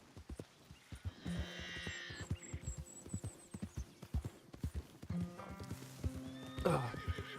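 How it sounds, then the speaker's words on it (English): Rhythmic hoofbeats clop along steadily while a horse lets out loud whinnies and snorts, with music in the background, in the video game Red Dead Redemption 2. "I just brushed my horse."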